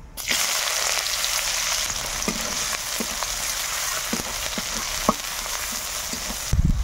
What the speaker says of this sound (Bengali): পেঁয়াজটা ভালো করে ভেজে নিয়েছি